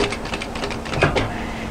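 A sewing machine runs a sweatshirt side seam in one short, steady burst of rapid mechanical stitching, close by and moderately loud, with no talk.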